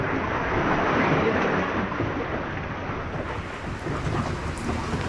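Heavy rain pours steadily outside an island cave, a dense close hiss of drops with low thunder rumbling beneath it throughout.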